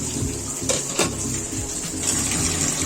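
Tap water running steadily into a sink over a pot of hot cooking water being drained, a continuous close rushing splash with a couple of brief clanks.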